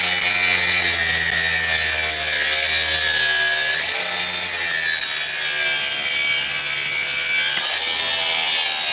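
A circular saw set just over 1 inch deep rips through a Trex composite deck board, producing a loud, continuous, close-up whining cut that holds steady for the whole stretch.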